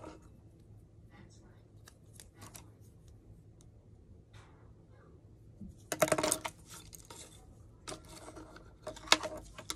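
Heavy-duty scissors snip through craft material for a small holiday truck decoration, giving a few sharp, close crunching cuts around the middle of the clip and near the end over a quiet room hum.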